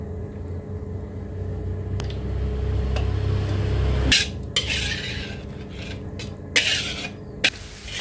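Balado jengkol simmering in a pan as its liquid reduces, a low steady bubbling hiss with clinks of a utensil against the pan and a few sharp knocks near the end, no talk.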